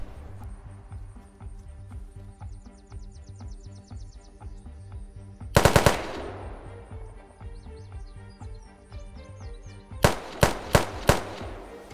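Gunfire in the Unturned game: a sharp burst of close, loud shots near the middle, then four spaced heavy cracks near the end, over a quieter game background with tonal music-like layers.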